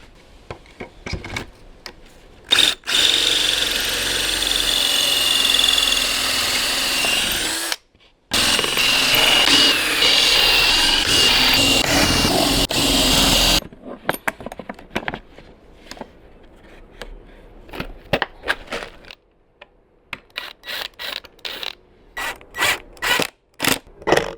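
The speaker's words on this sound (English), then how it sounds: "Let's make some pocket holes." A power drill bores pocket holes for an upper cabinet in a Sprinter camper conversion, running in two long loud whirring bursts, followed by a series of sharp clicks and knocks.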